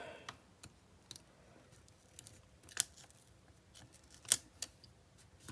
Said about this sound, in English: Let the blade do the cutting for you.